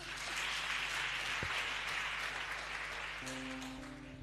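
A congregation applauding in a church, a dense steady clapping that tapers slightly at the end, with a faint tone entering in the background.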